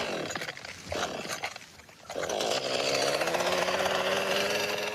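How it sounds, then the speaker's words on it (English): A chainsaw revs up on a homestead, starting with uneven bursts and then settling into a loud, steady, close-up whine that holds to the end, with no talk over it. "Do you want to learn how to use a chainsaw?"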